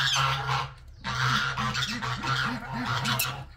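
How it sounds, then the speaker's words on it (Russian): A flock of domestic geese honks loudly and insistently near a nest, a rapid run of repeated nasal calls following a brief pause, close and harsh. "Гуси орут уже невыносимо."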